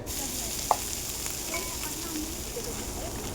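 Bombil (Bombay duck) fish frying on a tava with a steady, faint hiss and a single brief clink near the start.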